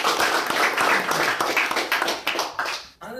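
An audience at a Toastmasters club meeting claps for the club's ex-officers, a dense burst of applause that thins out and stops abruptly near the end.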